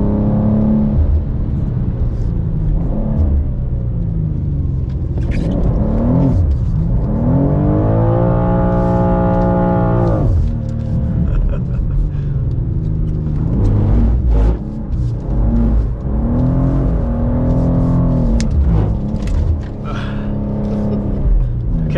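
A 2023 BMW M2 with a six-speed manual gearbox is driven hard, its engine loud and close, with a steady drone that climbs and falls through revs and gear changes.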